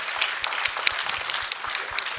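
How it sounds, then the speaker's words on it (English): Audience applause at a startup launch event, a lively mix of many hands with a few sharper individual claps popping out, steady and fairly close. "Round of a fucking applause"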